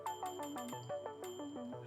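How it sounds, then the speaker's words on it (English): A bell in the video game Satisfactory rings out in a quick sequence of bright, clanging tones with falling pitch steps, repeating in a busy pattern, clear and alone. "Sounds like you ringing that bell."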